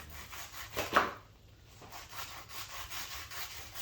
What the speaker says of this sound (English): And this you're just rough chopping, right?